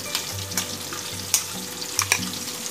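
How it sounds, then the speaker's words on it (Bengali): Spice paste frying in oil for a pepper egg curry with curry leaves, a steady sizzle broken by sharp scraping and clinking strokes of stirring, close and fairly loud. "এবার আমি পেস্টটা এর মধ্যে দিয়ে দিচ্ছি।"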